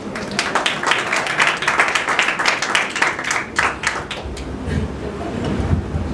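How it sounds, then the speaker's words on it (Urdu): Audience clapping together during a gospel sermon, a dense, steady patter of many hands held for several seconds at fairly close range, with no speech over it. "اگر ہوں تو تالیاں بجاؤ"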